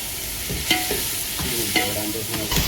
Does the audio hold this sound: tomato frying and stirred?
yes